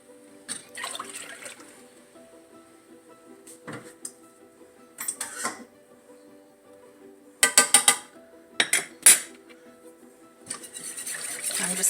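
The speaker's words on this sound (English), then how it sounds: "I'm just going to whisk that a little bit to make sure there aren't any lumps of flour left in there" A whisk stirs milk and flour in a bowl to break up lumps, giving intermittent bursts of wet scraping and clatter against the bowl, several sharper clustered strokes in the middle, separated by quiet pauses.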